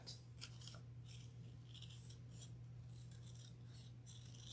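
Scissors cut through a small piece of paper in a faint, steady series of quick snips, slow and close, with no one talking.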